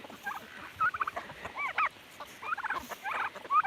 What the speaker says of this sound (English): He is a pretty rooster,